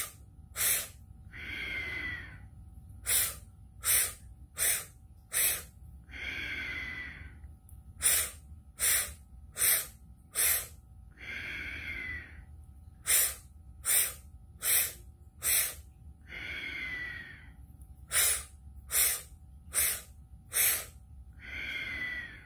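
Rhythmic breathing during a Kundalini yoga meditation: sharp, loud sniffing inhales in quick bursts of four, each followed by a long, softer exhale, repeating steadily with no talk.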